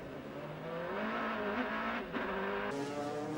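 An American Le Mans Series race car at Trois-Rivières brakes hard, its engine pitch dropping and then rising again with faint tire noise, moderately loud with no speech.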